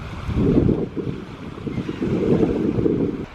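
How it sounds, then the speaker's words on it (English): Steady wash of surf breaking on a pebble beach on the Kent coast, with rough, low rumbling surges and wind buffeting the microphone throughout. "If you listen, you can hear the waves."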